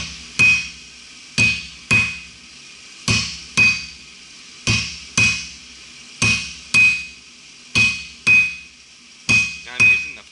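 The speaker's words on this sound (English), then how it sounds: "Now I'm using the flat side of my hammer here" A blacksmith's hammer strikes hot steel on an anvil while forging a diamond finial, landing about a dozen sharp ringing blows in a steady rhythm, loud and close with short decays between hits.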